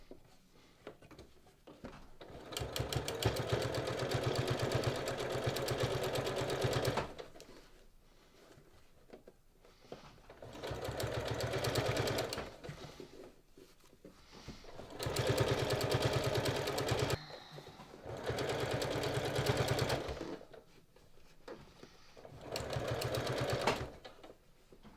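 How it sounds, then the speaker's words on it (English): Sewing machine stitching along the inside edge of an original seam on a bag being repaired, running in five steady rapid bursts of a few seconds each with quiet gaps between them, close and clear with no talking. "I want to make sure I'm stitching on the inside edge of my original seam so this black thread doesn't show"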